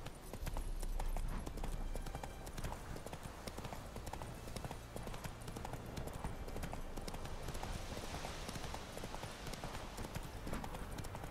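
Horse galloping in The Witcher 3: Wild Hunt, a rapid, steady clip-clop of hooves that keeps going close and loud throughout, with faint background ambience.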